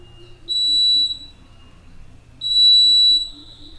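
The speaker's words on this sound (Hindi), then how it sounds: "तो इसी जैसे मैं इसके सामने जाऊँगा ये अलार्म बजने लगेगा।" Smart glasses for the blind sound their obstacle alarm in two steady high electronic beeps, each lasting about a second, loud and close, with a low hum between them.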